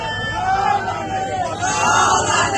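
A crowd gathered at a Hindu rally chants slogans in the name of Chhatrapati Shivaji Maharaj, a loud swelling roar of many voices shouting together, heard close and dense.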